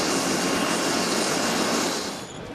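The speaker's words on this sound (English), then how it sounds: "a North Air Care medical helicopter touches down 100 feet away." A medical air-ambulance helicopter touches down about 100 feet away at a staged crash scene, its loud, steady broadband rotor and engine roar filling the air before easing slightly at the end, with no talk.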